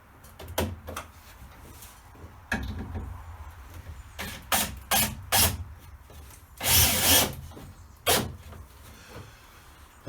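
A power drill drives screws into wood pieces being fitted beneath a boat deck's PVC cabin headlining, in several short loud whirring bursts with pauses between, close by and without talk.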